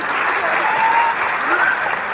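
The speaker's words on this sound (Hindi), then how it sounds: "एक बार सभी मेरे मेंटर्स की एक बार जोरदार तालियां बनती है।" Loud applause from an audience at a business recognition gathering, given in thanks to the speaker's mentors. Dense, continuous clapping fills the short stretch at close range, with a faint thin tone briefly audible beneath it.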